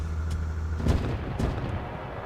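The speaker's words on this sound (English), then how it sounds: "now it's gone because it just smacked into that bridge piece" Plane smacking into a bridge in the flight sandbox game SimplePlanes, heard as a low engine drone that breaks into a burst of heavy thudding crash booms, followed by a second, smaller impact.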